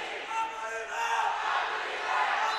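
Crowd in a gym at a girls' volleyball match against West Chicago, football players joining in, chanting and cheering in a steady wash of voices that swells slightly midway.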